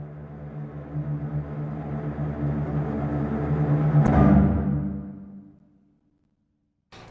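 Cello tremolo from the Spitfire LABS Scary Strings library, a dark, rapidly bowed low drone that swells steadily louder, peaks, then fades away into silence before a brief soft return at the end.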